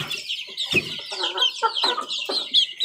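Chicks and chickens at feeding time make a busy run of close, overlapping clucks and high chirps, rising and falling in quick bursts throughout with no talking.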